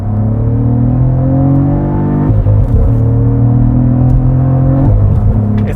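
A 2022 Cadillac CT4-V Blackwing's turbocharged engine revs hard and loud through no-lift manual upshifts, two sharp pitch drops breaking a strong, rising drone.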